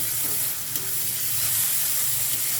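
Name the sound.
vegetables frying with noodle masala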